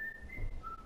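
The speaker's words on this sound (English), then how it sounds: "He's whistling." A person whistles a faint, steady high tone that rises then drops in pitch, set against low background rumble during a casual gaming session.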